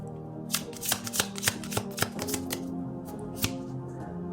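Tarot cards are shuffled and drawn close up, a run of quick crisp riffling snaps and slaps in uneven bursts, then a few single flicks as cards are pulled, with no talk.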